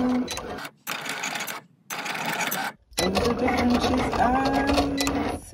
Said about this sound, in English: And now we are cutting out our vinyl.